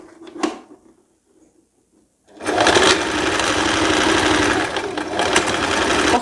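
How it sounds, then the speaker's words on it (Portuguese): A sewing machine stitching the waist of a dress to its bodice: after a few faint handling sounds, the motor starts and runs loud and steady at close range for several seconds, with no voices. "Vai passar na máquina, costurando a parte entre a cintura e o corpinho"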